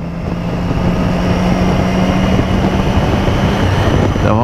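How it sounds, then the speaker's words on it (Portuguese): Motorcycle riding along a highway in Brazil, a steady loud engine drone with wind rush throughout, close and continuous with no talk. "Então vamos de moto."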